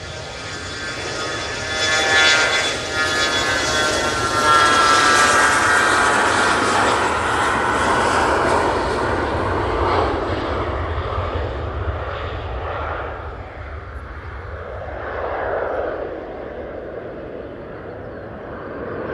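A powerful airliner passes at Manchester Airport, its engine roar building to a loud peak around five seconds, then slowly fading over nearly twenty seconds with a gradually lowering rumble.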